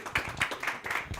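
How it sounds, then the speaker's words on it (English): Short burst of audience applause at a blockchain business talk, a patter of clapping hands at moderate distance with no voices over it. "But everybody give Anthony a round of applause."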